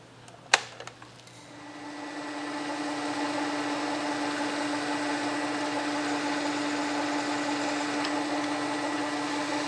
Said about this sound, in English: just drill a little clearance hole here for the set screw to go into, and it's just a 1/4 inch